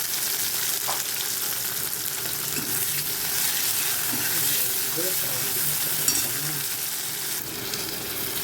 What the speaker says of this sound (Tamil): இப்போ வந்து வெங்காயத்தை சேர்த்துக்கிறேன்